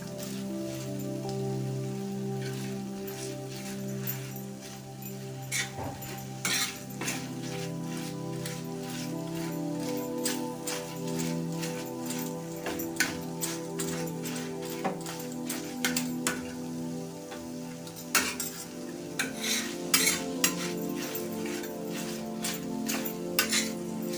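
A spoon stirs tomato chutney in a pan, close and fairly quiet over a low sizzle, with repeated scraping and clinking against the metal that grows busier toward the end.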